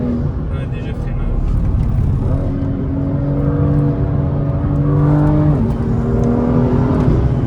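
A BMW M2 runs hard on the Nürburgring, its engine droning loud and steady with shifting tones as it brakes lightly into a downhill section, heard close from inside the car.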